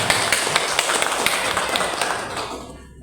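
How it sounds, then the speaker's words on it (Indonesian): An audience at a school parenting talk at an elementary school gives dense, steady applause that fills the room, then cuts off abruptly near the end. "Tepuk tangan dulu dong untuk Bapak Ibu."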